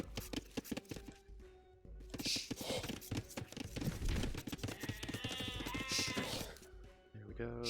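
Sheep bleat a few times in a strategy video game amid busy game effects, clicks and chopping-like thunks, with a person talking over the sounds.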